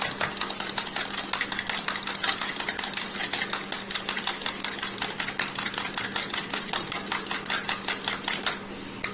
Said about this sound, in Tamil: விட்டமின் இ கேப்சூல் ஆட் பண்ணிட்டு மறுபடியும் நல்லா மிக்ஸ் பண்ணுவேன்